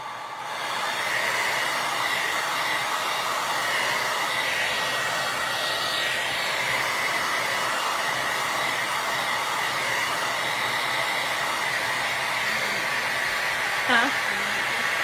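A hair dryer blows steadily on decoupage tissue paper, a continuous close whooshing drone that starts within the first second and runs unbroken to the end, with a brief faint voice near the close.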